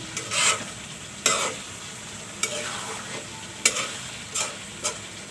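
Boiled potatoes being stirred into a sizzling meat curry, with about six distinct scraping strokes spaced a second or so apart over a low fry, close and fairly loud.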